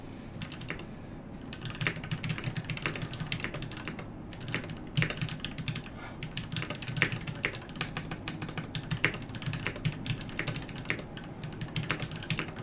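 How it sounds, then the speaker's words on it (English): Continuous typing on a KBD8X MkII mechanical keyboard, fairly quiet and close, with irregular clustered keystrokes and no talking. "I don't know why I'm typing so slow."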